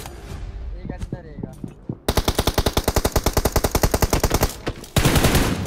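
Rapid automatic gunfire from PUBG Mobile, a long loud burst of evenly spaced shots followed by a heavier blast, with a squad member's voice briefly heard beforehand.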